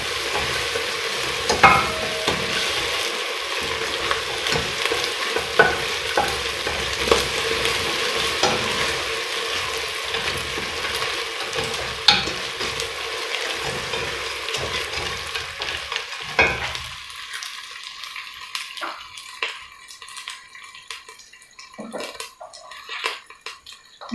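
Caramel being stirred in a pan with Blue Band margarine while making sweet caramel popcorn: a steady, close sizzle with scraping spoon strokes that drops to quieter, sparse stirring clicks toward the end.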